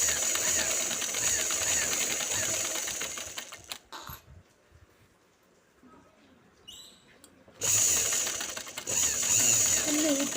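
A sewing machine stitching a pant hem at a quarter inch, a fast buzzing run that stops for a few seconds of quiet, then starts again, with a voice talking faintly beneath it.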